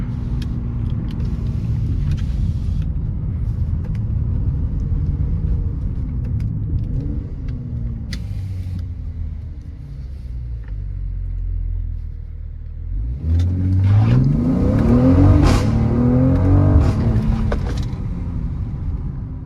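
Mercedes-AMG GLC43 SUV engine revving hard under acceleration, a rising roar swelling near the end with a few sharp exhaust pops crackling over the steady road rumble.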